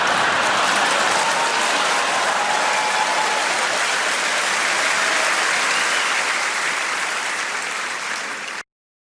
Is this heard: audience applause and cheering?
yes